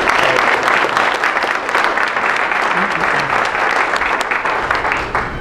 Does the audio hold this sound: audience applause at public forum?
yes